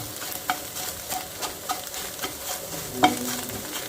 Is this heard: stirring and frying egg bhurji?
yes